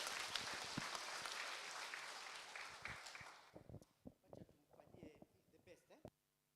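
A church congregation claps together during a Kikuyu Sunday service; the dense applause lasts about three seconds, then thins into scattered claps and voices before stopping.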